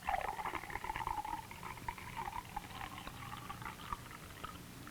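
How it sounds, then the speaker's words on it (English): Water pouring from a pitcher into a glass, a steady, faint trickling stream that lasts about five seconds with no talk over it. "First, fill the glass with water."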